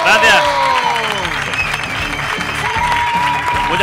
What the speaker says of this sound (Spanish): ¡Un fuerte aplauso para David Broncano!